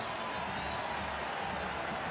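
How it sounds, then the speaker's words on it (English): A large Missouri football stadium crowd roaring and cheering at the 2008 Border Showdown game against Kansas, with a dense, steady wash of noise throughout. "this Missouri crowd going nuts these days"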